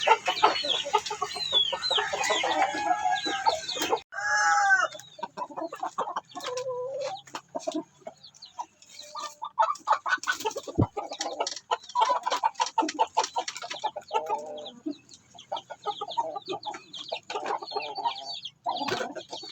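Shamo chickens crossed with Brahma clucking and crowing, with a drawn-out crow early on, then repeated clucks and scratchy calls at varying distances, fairly close and dense across the whole stretch.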